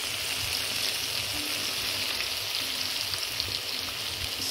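Frozen sliced sweet peppers and green beans fry in hot refined sunflower oil in a roasting pan, a steady close crackling sizzle running throughout with no talk.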